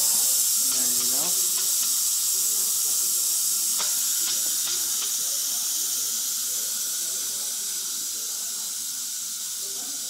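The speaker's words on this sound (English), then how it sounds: "you flip this switch that's back here from pressure to steam" Steam vents in a loud, steady hiss from a Fagor 3-in-1 multicooker on quick pressure release after cooking risotto, staying continuous and close for the whole stretch while it fades slightly toward the end.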